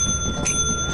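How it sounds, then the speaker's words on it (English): The ship bell in the video game Lethal Company sounds once, a short bright ring over a steady background hum. "I'm ringing the bell."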